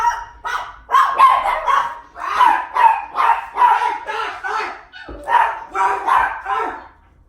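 Several dogs bark in a loud, rapid, close-up series of yappy barks, with short pauses between the bursts and no one speaking.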